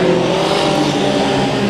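Race cars on the track for a heat race at Santa Maria Speedway, a loud, sustained engine roar with droning harmonic tones as the pack runs close by.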